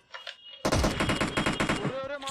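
Automatic gunfire in a PUBG Mobile match, with rapid bursts of shots that start abruptly after a short pause and fire densely, loud and close, ending in a final crack.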